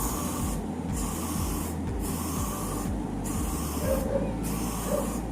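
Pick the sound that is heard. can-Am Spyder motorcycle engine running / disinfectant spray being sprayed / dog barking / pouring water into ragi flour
disinfectant spray being sprayed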